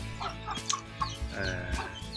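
Young game fowl chicks cluck and chirp busily on a Thai poultry farm where fighting cocks are bred, a steady close chatter of several birds with sharper peeps breaking through and no talking.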